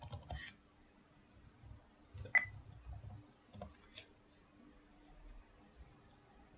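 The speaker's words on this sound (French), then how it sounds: "Je tape mon mot de passe." Sparse keystrokes as a password is typed on a computer keyboard, a few soft isolated clicks and short clusters separated by quiet pauses, close and faint.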